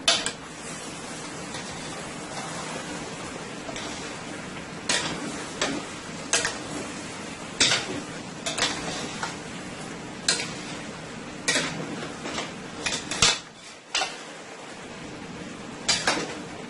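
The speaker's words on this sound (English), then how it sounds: "I'm going to give this a nice toss here." Chicken stewing in white wine is tossed in a pot, giving a series of light metallic clinks and scrapes in an irregular rhythm over a soft hiss, with no talking.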